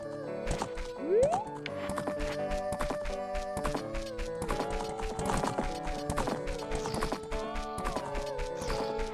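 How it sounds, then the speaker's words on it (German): Rhythmic hoof clip-clops of the horse Epona galloping in The Legend of Zelda: Ocarina of Time, with a brief whinny near the start, over layered game music-like tones. "Komm, Epona, komm!"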